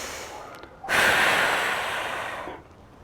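A single long breath out during a core exercise, close and clear, rising sharply and holding steady for about two seconds before fading away.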